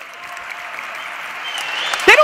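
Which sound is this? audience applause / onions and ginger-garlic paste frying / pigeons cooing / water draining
audience applause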